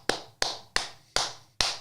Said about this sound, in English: Hold on, I think I got to clap one